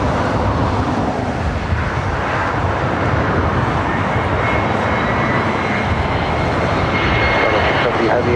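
An Airbus A321 on short final to runway 24 right at LAX roars close by, a loud steady engine drone mixed with distant traffic, while radio talk runs underneath.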